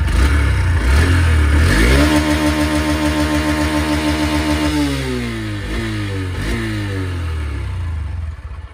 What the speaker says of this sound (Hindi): और अब मैं गाइस आपको इसका एग्जॉस्ट नोट करवाता हूँ।